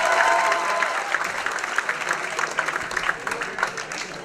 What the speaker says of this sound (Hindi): एक बार जोरदार तालियां हो जाए हमारे साथ।